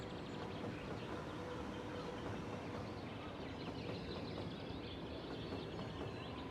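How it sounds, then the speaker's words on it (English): Fully loaded freight trains rolling past in the city-building game Cities: Skylines, a steady, dense rumble of rail wagons holding at an even level for the whole stretch with no talk over it. "These trains, the ones that are fully loaded, going by here."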